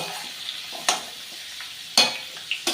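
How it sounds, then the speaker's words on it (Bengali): Potatoes and kohlrabi sizzle in a frying pan while a spatula stirs them, adding a few sharp scraping strokes over a steady, close hiss. "আলু আর ওলকপি খুব ভালো করে ভাজা হয়ে গেছে"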